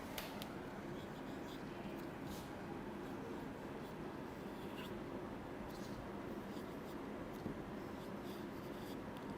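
Chalk or marker scratching on a classroom board as a teacher writes a lesson, a steady rubbing texture set against a constant, fairly loud background hum throughout.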